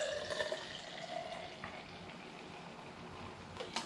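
Spicy watermelon sour beer poured from a can into a glass, a soft continuous fizzing, gurgling stream with a few clinks, quiet and close without talk.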